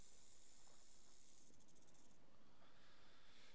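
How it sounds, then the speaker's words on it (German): A snake hisses close by in the survival game Stranded Deep, a steady airy hiss running quietly through the whole stretch with no voices. "Wie ich es hasse, diese Schlange ist schon wieder direkt neben mir."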